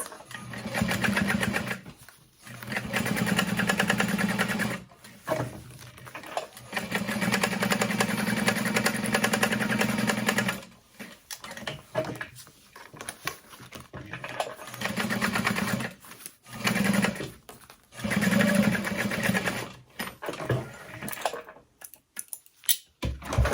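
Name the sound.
sewing machine basting bag fabric in place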